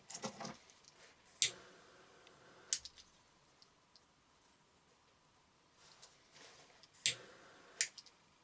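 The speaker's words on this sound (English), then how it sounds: "use our scissors." Scissors snip through hammock suspension cord in a few sharp, separate clicks spread over several seconds, close and fairly quiet, with no one talking.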